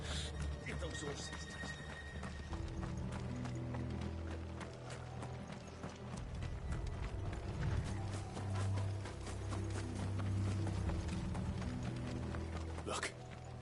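Horses gallop in the Final Fantasy XIV video game, a brisk run of clip-clop hoofbeats with mechanical rattling beneath, while characters speak over the top.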